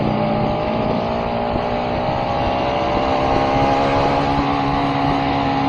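A Ducati motorcycle rides along on a solo chill ride, its engine droning steadily and close throughout, with a constant low rumble and no talking.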